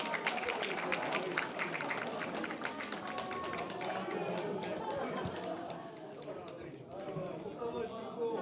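Warm applause from the audience at a literary award ceremony, welcoming the families of guests: sustained clapping from many hands mixed with crowd chatter, with a speaker talking over it.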